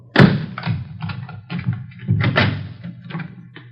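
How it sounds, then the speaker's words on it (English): Door being opened as a sound effect in a Dragnet radio police drama: a string of close knocks, thumps and rattling clunks in irregular rhythm, fairly loud, with no talk. "Let me get the door open."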